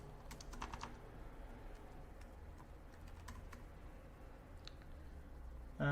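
Typing on a computer keyboard while an essay outline is written produces soft, irregular key clicks in short clusters, fairly faint over a low room hum, with no talk over it.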